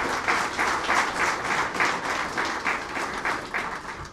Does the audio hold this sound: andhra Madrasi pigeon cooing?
no